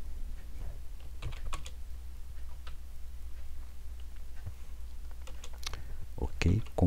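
Keys clatter on a computer keyboard in scattered short bursts of clicks under a low steady hum, with a louder cluster of keystrokes near the end and faint speech at times.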